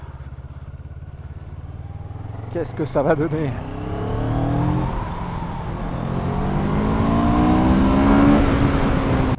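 A CF Moto 650NK motorcycle engine starts and revs up, a low steady idle rising into a climbing acceleration whine, heard close and loud with someone talking over it in French.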